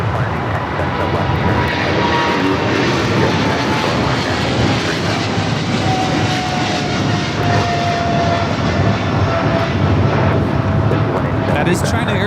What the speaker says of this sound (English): That is China Airlines Cargo 5382 taking off to Miami, Florida on the 777 freighter.